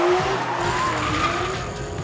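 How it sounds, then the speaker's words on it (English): Boy-racer car on a UK street with tyres skidding and squealing, a continuous loud screech with engine roar lasting about two seconds, heard alone. "There needs to be more fucking skid action going on"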